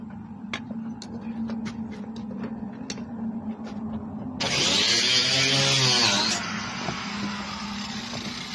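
A power tool cutting during repairs on a house, a loud, steady high whine that runs for about two seconds and then drops away, heard over a constant motor hum with scattered sharp taps and clicks before it.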